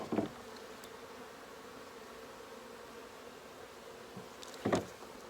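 Honey bees buzz steadily around an open hive as a bottom board is shaken, with two brief louder bursts of activity at the start and near the end over the continuous insect drone.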